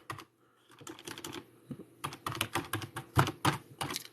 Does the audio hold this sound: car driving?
no